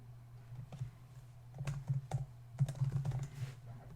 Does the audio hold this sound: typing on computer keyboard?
yes